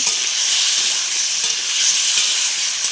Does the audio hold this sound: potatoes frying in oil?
yes